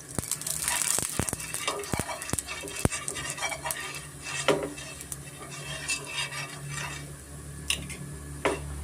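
A wide pan set on a stove and oil spooned in while making a tawa fry of raw banana and ridge gourd, heard as close metallic clinks, scrapes and utensil rattles with no talking.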